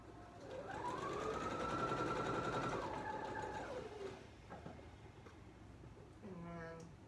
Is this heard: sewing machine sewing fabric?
yes